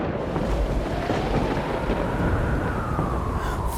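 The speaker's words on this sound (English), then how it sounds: "Thunder ripped across the sky" Thunder rolls across a stormy sky as a loud, continuous low rumble with a broad roar that holds steady throughout, with no voices.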